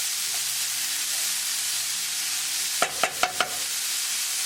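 French beans fry and hiss steadily in a pan, and four quick scraping stirs of a spatula knock against it near the end.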